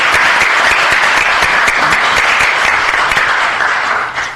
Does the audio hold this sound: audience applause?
yes